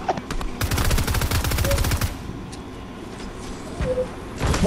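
Rapid bursts of automatic gunfire in a video game rattle out loudly for about two seconds as shots come from behind, then give way to a few scattered distant shots.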